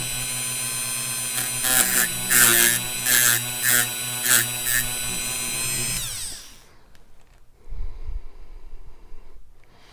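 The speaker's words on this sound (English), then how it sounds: "So use a Dremel tool like this on the left-hand side." A handheld Dremel rotary tool grinds a sharpening choil into a steel knife blade, a loud high-pitched whine with several bursts of heavier grinding contact, then the motor spins down and stops about two-thirds through, leaving quieter handling noise.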